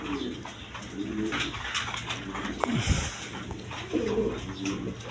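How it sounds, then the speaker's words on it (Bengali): Red Rajgolla pigeons, a male and female pair, coo in low repeated phrases close by, with steady background hum and a brief bump of noise midway. "এক পেয়ার কালারিং রাজগোল্লা কবুতর আছে, রেড কালারের মধ্যে"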